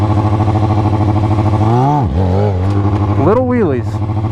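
A motorcycle engine revs hard as the bike lifts into a wheelie, a loud, close, continuous drone that dips briefly and then climbs in two sharp rising surges.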